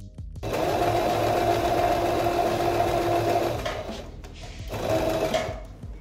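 Sewing machine stitching the armhole of a sleeveless top's lining at a 1 cm seam: a loud, steady motor whir runs for about three seconds, then after a short pause it returns in a second brief burst.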